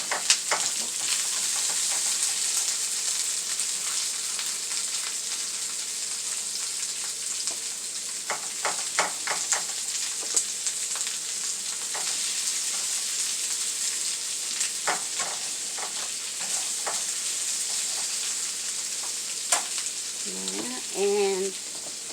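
Onion frying in a pan with potato and beef in a low-sodium dish, a soft continuous sizzle with occasional stirring clicks and scrapes, with brief faint sounds near the end.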